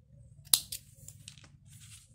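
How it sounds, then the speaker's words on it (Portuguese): Scissors snip crochet yarn in a single sharp close cut, followed by a few faint rustles in a quiet room. "Aqui a gente vai cortar o fio."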